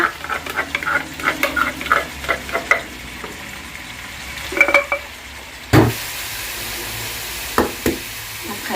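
Kangaroo meat and garlic fry in hot oil and butter with a steady, close sizzle, broken by repeated utensil scrapes and taps; the hiss jumps louder partway through as more goes into the pan.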